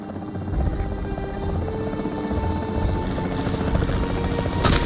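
The capture team helicopter in the video game Jurassic World Evolution 3 gives off a continuous rotor thrum with a steady low pulse, moderately loud and unbroken, ending in a sudden bright burst of noise.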